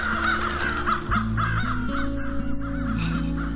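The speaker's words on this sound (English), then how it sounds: "Birds." Crows cawing in the video game PAWS, a series of loud, close caws repeating over a layered musical background with steady tones.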